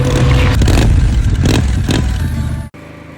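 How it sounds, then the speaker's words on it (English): A Honda NC750 X motorcycle on a ride gives a steady, loud engine drone with wind rush, broken by a few brief bursts before it cuts off abruptly near the end. "let's jump on the bike and go for a ride."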